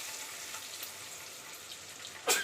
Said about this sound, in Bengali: দেখো আলুটা প্রায় ভাজা ভাজা হয়েই এসেছে